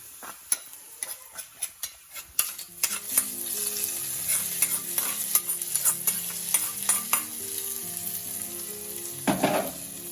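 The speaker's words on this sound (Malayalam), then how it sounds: "തേങ്ങാക്കൊത്ത്, അണ്ടിപ്പരിപ്പ്, കുറച്ച് ബദാം. ഇതൊന്ന് നെയ്യിൽ വറുത്തിട്ട് ഇതിൽ ചേർത്ത് കൊടുക്കാം." Coconut pieces, cashews and almonds fry in ghee in a pan, giving a continuous sizzle with stirring clicks and scrapes. Nobody speaks.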